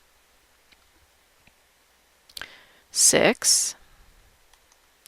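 Computer mouse clicks on a file in family tree software, a faint click followed by a brief cluster of sharper clicks close to the mic, with a voice counting nearby.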